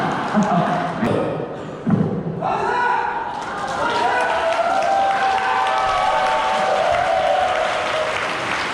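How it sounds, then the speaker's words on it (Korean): Guests at a Korean wedding ceremony applaud, a broad crowd clapping that swells after some thumps and stays steady for several seconds, with voices mixed in. "박수로 출발하시죠"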